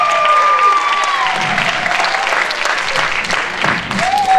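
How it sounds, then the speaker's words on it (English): A comedy show audience claps loudly and steadily for several seconds, with a few whistles and whoops rising through the applause. "Would y'all give them a big hand of applause for here tonight?"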